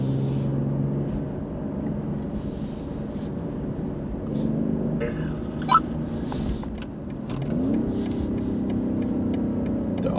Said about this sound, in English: The automatic downshift, I mean, it just sounds so cool.